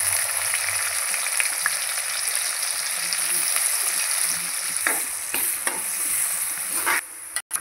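Onion frying in a couple of spoons of oil with cumin, coriander and black pepper for tempering, a continuous loud sizzle with occasional stirring scrapes, ending abruptly.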